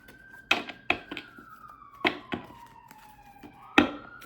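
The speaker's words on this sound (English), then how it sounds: "Let's let that siren pass." A siren's long descending wail passes in the background, its pitch sliding steadily down, while loud card-slapping thuds land close by at intervals.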